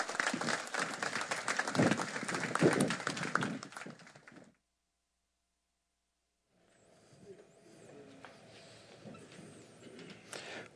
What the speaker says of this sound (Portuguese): Um aplauso de boas-vindas.